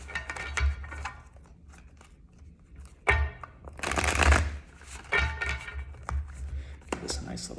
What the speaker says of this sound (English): this a nice little shuffle.